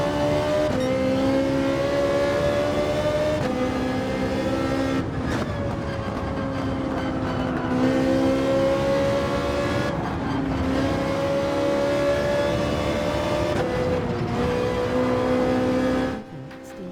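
A Ferrari race car engine in Gran Turismo 7 screams loudly and continuously, climbing in pitch through each gear and dropping briefly at the shifts, repeating over several laps' worth of acceleration with no voices.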